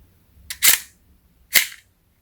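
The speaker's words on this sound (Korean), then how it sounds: "격발 테스트 해보죠." A GHK 1/2 scale full-steel STEN Mk.II model gun fires two sharp, close snaps about a second apart in an otherwise quiet room.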